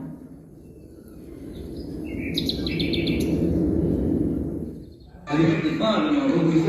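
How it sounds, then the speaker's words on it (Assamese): Birds chirp in short, high twittering bursts over a low background rumble. After a brief pause, a louder passage with a voice or music follows. "মই ইয়াত চৰাইৰ কাকলি শুনিব খোজো, মেচিনৰ শব্দ নহয়"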